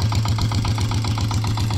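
A motorboat engine chugs steadily up close, its rapid, even pulsing loud and continuous throughout.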